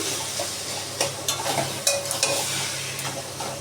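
Taro leaves (kochu saag) sautéing in a pan with a steady hiss of frying, broken by several sharp scrapes and clacks as a spoon stirs them, close by and without talk.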